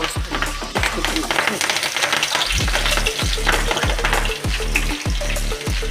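Gram flour fritters with red amaranth leaves, potato, onion and green chilli sizzle in hot oil, a loud, close crackle broken by repeated rhythmic scraping or stirring strokes, with a voice speaking over it.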